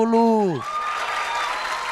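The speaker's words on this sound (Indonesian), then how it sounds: "Nah, tepuk tangan, bagus." At a stand-up comedy show, a short voiced exclamation slides downward, then the audience breaks into a burst of unified clapping that continues evenly to the end.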